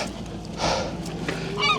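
Seagulls calling around a fishing boat pulling creels, a couple of harsh squawking cries over a steady background hum, moderately close, without any talking.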